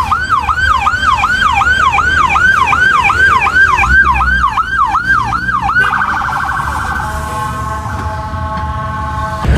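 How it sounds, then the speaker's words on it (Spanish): An ambulance siren on a city street wails in a steady, loud up-and-down cycle that runs for about six seconds. It then cuts to a flatter, fading tone as the vehicle moves away among traffic noise. "la ambulancia se fue en sentido contrario"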